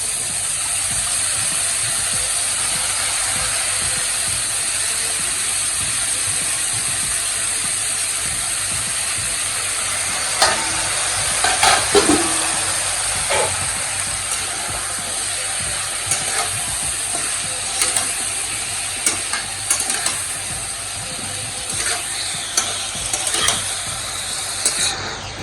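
Chopped bottle gourd (dudhi) for a Sindhi sabzi fries in a hot pan with a steady close sizzle and hiss, with occasional clinks and scrapes of a spoon stirring.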